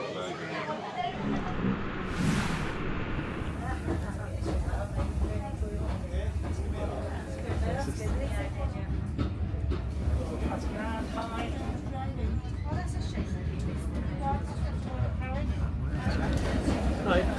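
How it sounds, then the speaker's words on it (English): West Somerset Railway heritage train starting to move from Minehead, a steady low rumble and rolling noise heard from on board, with passengers chatting in the background throughout. "So now the train started moving"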